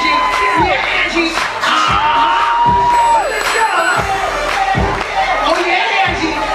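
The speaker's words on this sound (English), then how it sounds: "Studio audience, make some noise! Let's go, let's go! Clap those hands!" A studio audience on the set of a TV talk show cheers, whoops and shouts in a lively crowd, with regular heavy thumps or claps keeping a beat and voices calling out over the noise.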